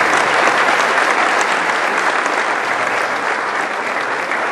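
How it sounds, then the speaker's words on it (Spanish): A crowd at a team presentation for a cycling squad breaks into sustained, loud applause that continues evenly throughout. "Un aplauso para el paisano"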